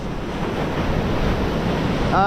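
Sea waves wash steadily around a pipe outfall at the shore during a big spring tide, a constant broad surf roar with wind buffeting the microphone throughout.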